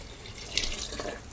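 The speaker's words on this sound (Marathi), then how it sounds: "आता आपण पाणी वतून घ्यायचं आहे" Water is poured into a pot of browned chicken, giving a short, close, steady splashing pour.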